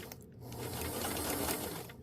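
Sewing machine running steadily for about two seconds while stitching a dress bodice sleeve, a continuous close mechanical whir with no pauses and no talking.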